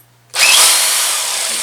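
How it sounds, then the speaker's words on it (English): A power drill in plain drill mode with the hammer action off kicks on sharply after a brief quiet and keeps up a loud, steady whir at close range. "So this is the drill mode without hammer."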